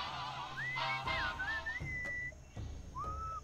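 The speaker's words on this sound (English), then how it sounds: "What is that enchanting whistling sound?" Whistled melody inside the Sam and Max Beyond Time and Space video game, a clear wavering tune of sliding notes in short phrases over a low musical hum.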